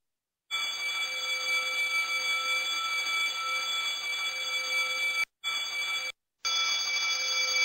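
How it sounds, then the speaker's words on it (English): An electric bell rings continuously and loudly inside an air-filled jar, with two brief gaps where it cuts out before resuming. "Can you hear the sound of the electric bell?"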